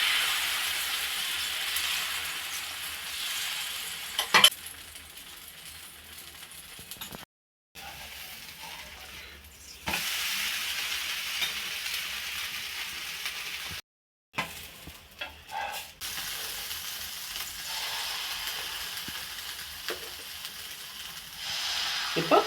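Green vegetable dosa batter cooks on a hot griddle, giving a loud, hissing sizzle that comes in long stretches broken by brief silent gaps and a few scraping clicks.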